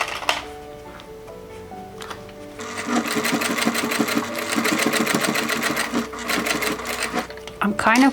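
A sewing machine sews a fabric seam, its rapid rhythmic clatter starting after a few quiet seconds and running steadily close by, under a person talking.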